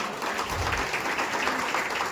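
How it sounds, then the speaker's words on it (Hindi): Audience applause at an association gathering attended by a political party president, a steady wash of clapping at moderate distance with no break, heard alone. "कृपया तालियां बजते रहने चाहिए।"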